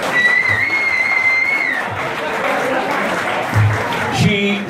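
Crowd applause for a musician at a blues concert in a pub, close and lively clapping with a sustained whistle early on and a voice briefly heard near the end.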